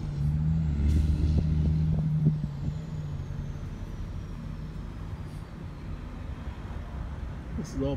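A truck engine drones near at first, then fades to a lower rumble with faint brake hiss, as trucks arrive to dig out the Jockey Ridge dune in Kill Devil Hills, North Carolina, with voices talking underneath.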